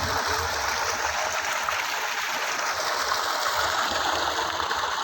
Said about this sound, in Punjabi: ਦੇਖੋ ਜੀ ਇਹ 10 ਦੀ ਮੋਟਰ ਤੇ ਦੇਖੋ ਪਾਣੀ ਵਧੀਆ ਖੁੱਲਾ ਡੁੱਲਾ ਪਾਣੀ ਹੈ ਜੀ